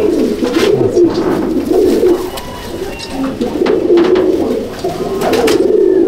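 Teddy pigeons coo steadily in a loft, several birds overlapping in a continuous, fairly close murmur of soft throaty calls with no talking.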